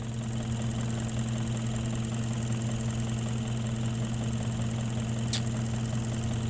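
A Hyundai engine knocking at idle gives a steady, close, low hum and drone with a faint, even knock inside it, plus one brief sharp tick near the end, and no voices.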